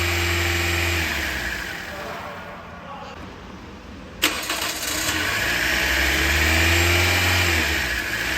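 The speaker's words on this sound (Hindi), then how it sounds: "इंजन आरपीएम अभी भी इसी तरह तेज़ है, जो कि नॉर्मल नहीं है, बहुत ही ज़्यादा तेज़ है।" A car engine with a misfire fault runs at an abnormally high idle speed, droning loud and close, fading briefly and then restarting and climbing back to a sustained high-pitched roar.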